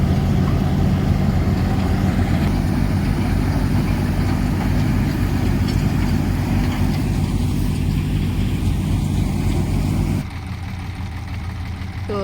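A farm tractor with a trailer idles nearby in a steady, loud, rumbling chug that continues evenly, then drops to a lower, quieter idle near the end, with no talk.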